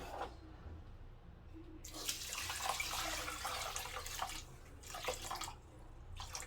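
Water pours and splashes into a pot of rice in uneven surges, quiet and close, with no talking.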